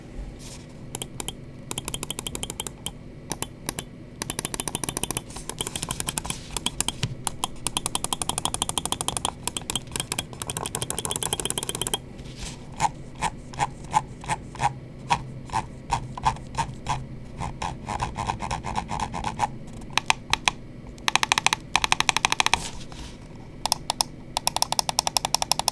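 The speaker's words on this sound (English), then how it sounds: "So let's just go ahead and jump into it and do the click quality sound check." Rapid bursts of crisp, loud clicks from the buttons of a Mchose L7 Pro gaming mouse, heard close and alone, with fast rattling runs broken by short pauses and some slower single clicks.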